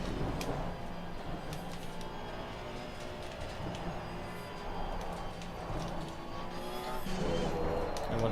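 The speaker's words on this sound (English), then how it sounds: "46 cars racing tonight" Race cars on track in Assetto Corsa Competizione, a big 46-car grid, with a continuous layered engine drone and whine from several cars at once, steady and moderately loud, swelling slightly near the end.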